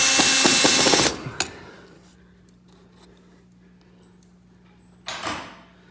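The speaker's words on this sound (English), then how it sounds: "A couple of deck screws are going to hold this in here." A power drill drives deck screws into an octagon electrical box, a loud whirring burst that cuts off, a sharp tap, then quiet before a second short drill burst near the end.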